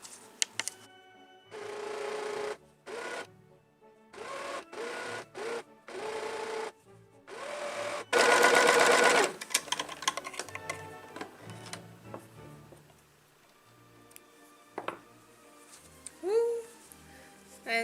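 A sewing machine stitching a sleeve seam runs in a series of short, evenly whirring bursts separated by brief stops, close and fairly loud, followed by quieter handling noises.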